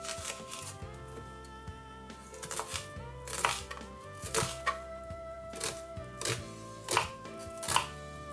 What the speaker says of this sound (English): I'll chop onion.